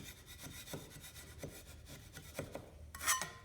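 4-inch drywall knife shaves joint compound in a corner with a series of short, close scraping strokes, quiet and rhythmic, ending in a brighter scrape.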